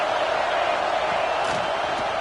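A loud stadium crowd of Ohio State Buckeye football fans roars on a third down against the Gators, a dense continuous wash of cheering with a commentator talking over it.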